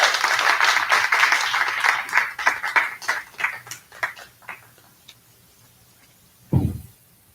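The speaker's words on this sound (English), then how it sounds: "a round of applause" Audience applause at a college commencement ceremony, a full round of clapping that thins out and fades over several seconds, followed by a single louder thump near the end.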